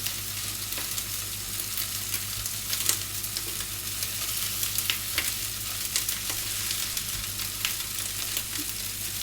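Rice cakes fry in a pan with a constant crackling sizzle and occasional sharper pops, steady and close throughout.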